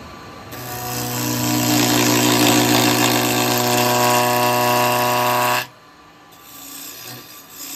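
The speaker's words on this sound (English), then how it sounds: "I'm going to use the negative rake and see how the negative rake handles on here, in the round" A negative rake carbide woodturning tool cuts into a round piece of wood spinning on a lathe, giving a loud, steady scraping rasp over the motor's hum for about five seconds before stopping abruptly, leaving a quieter hum.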